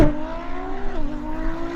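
A Nissan GT-R NISMO V6 and a Ferrari V12 accelerate hard side by side in a drag race, engines rising in pitch through gear changes, loud and continuous with a strong steady roar and no speech.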